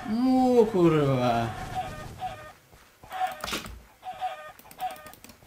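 A Minecraft chicken clucks in short, bright repeated bursts through the second half, following loud harmonic voice sounds at the start that may be a person or another game noise.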